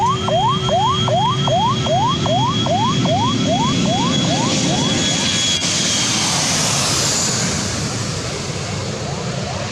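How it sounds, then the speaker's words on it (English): Aircraft engines roar steadily beside a busy runway as planes land and take off, with a repeating siren-like whoop over the first half and a broad, loud rumble throughout. "Planes are landing and taking off left and right"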